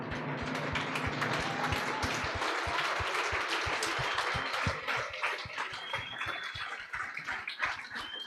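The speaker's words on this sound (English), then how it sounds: "may you please just stand and just clap hands for our amazing athletes" A standing audience clapping for athletes at a university sports gala, dense sustained applause from a large crowd that grows sparser and more separated into individual claps in the later seconds, with a few faint whistles.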